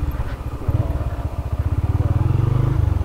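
A motorcycle is brought to a stop and parked at a hillside site near Pharping, its engine idling close by with a loud, steady, rapid putter throughout.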